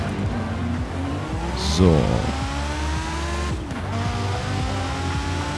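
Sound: car driving in video game Forza Horizon 4

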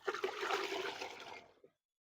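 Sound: pouring diluted calotropis fertilizer solution to mix it

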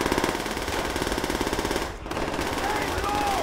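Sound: covering gunfire in video game Call of Duty World at War

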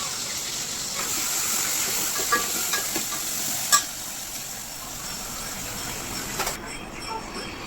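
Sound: garlic sizzling in hot oil tempering

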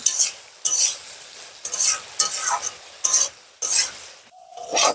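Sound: frying and stirring bottle gourd with salt and turmeric

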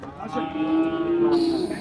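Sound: cattle mooing

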